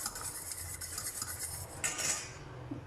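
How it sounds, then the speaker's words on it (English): Two eggs are beaten in a bowl with a utensil for French toast, making a steady, rapid clinking and scraping against the bowl that continues throughout at close range. "So into the bowl I'm going to put 2 eggs. Beat this for a while."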